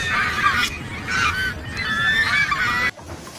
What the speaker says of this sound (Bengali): এখানে অনেকগুলো হাঁস রয়েছে